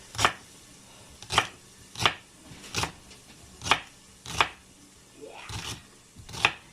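A knife chops stuffing ingredients into small pieces on a cutting board, about nine crisp evenly spaced strokes close by, each a sharp tap with a brief scrape, and no talking.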